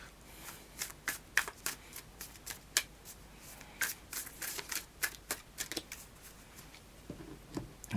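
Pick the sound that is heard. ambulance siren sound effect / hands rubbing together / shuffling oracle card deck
shuffling oracle card deck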